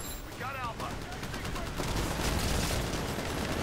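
Gunfire in the shooter Titanfall, a sustained burst of automatic shots building louder in the second half, with some voices and chatter mixed in.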